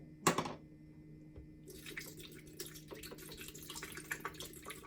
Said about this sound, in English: put them in a blender, add a little water